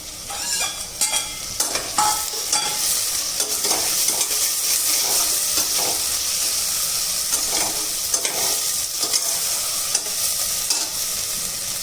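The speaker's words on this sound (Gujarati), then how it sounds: "હવે તેમાં હું ટામેટાં એડ કરું છું" Tomatoes hit a pan of frying onions and get stirred, with a steady bright sizzle broken by repeated scraping and clattering stirring strokes, close and fairly loud with no talking.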